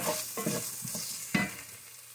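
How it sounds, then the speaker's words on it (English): Half a red onion hits hot oil in a pan with already softened vegetables for empanada filling, and a steady close sizzle follows, broken by scraping stirs and one sharper clatter, with no voices. "So now I'm going to add in my onion."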